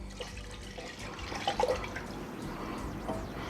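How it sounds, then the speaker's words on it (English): Vinegar pours into a bowl of water while making coleslaw dressing, faint soft trickling and a few small splashes over a quiet kitchen background. "in here I have some water. I'm going to add to it the vinegar."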